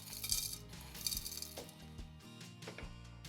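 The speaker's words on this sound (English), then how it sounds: "I want to add some more pebbles into the soil" Pebbles dropped into potting soil while planting succulents make a series of small, bright clinks and rattles: several scattered taps spread irregularly across a few seconds, close and fairly quiet.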